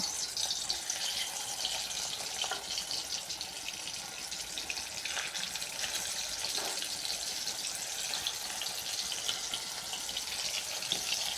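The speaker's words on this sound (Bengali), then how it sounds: "কড়ার মধ্যে দিয়ে দেবো সর্ষের তেল এবার আমি একটা একটা করে করলার এর মধ্যে এভাবে দিয়ে ভেজে নেব" Stuffed bitter gourds frying in mustard oil in a hot wok, a steady dense sizzle with scattered pops and crackles running unbroken throughout.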